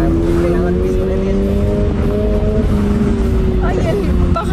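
A 2022 Subaru BRZ sports car with a factory sport exhaust drones steadily while driving. The engine note stays loud and close for the whole stretch, without breaks.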